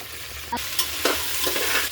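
Beans, tomato and cauliflower stir-fry in a pan for a vegetable soya pea pulao, a steady soft sizzle broken by a few sharp scrapes and clicks of stirring.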